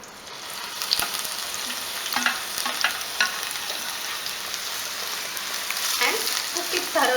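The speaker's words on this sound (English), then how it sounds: "To this I am going to add the bottle gourd, finely grated bottle gourd." Finely grated bottle gourd cooks in a pan for a milk halwa, with a continuous close sizzle and repeated spoon stirs and scrapes that grow busier toward the end.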